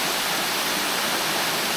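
Middle Black Clough waterfall pouring into its rocky basin gives a loud, continuous broadband roar of falling water, close and unbroken.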